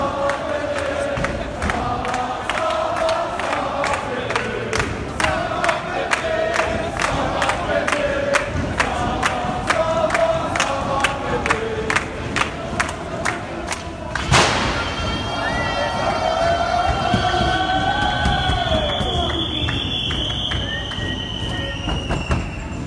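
A large crowd of yellow vest protesters marching through Paris, a steady outdoor roar of many voices with rhythmic thumps and claps, a sharp burst midway, then a high sustained whistle or chant toward the end.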